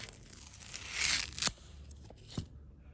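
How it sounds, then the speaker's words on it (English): Protective film is peeled off a part on an R33 GTR, producing a drawn-out crackling rip that swells and stops sharply, followed by a couple of short, quieter crinkles, close up with no talk. "Let's go ahead and peel this off."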